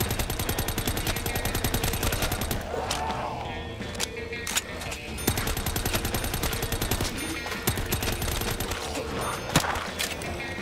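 Rapid automatic fire from a Sten gun in Black Ops III custom zombies plays in dense, continuous bursts with short pauses and some scattered single shots, loud and close throughout.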